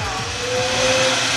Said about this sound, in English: So you said you didn't know how the vacuum works?